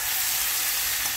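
Straw mushrooms are tipped into a hot pan with fried garlic, giving a loud, steady, close sizzle of frying with no talk.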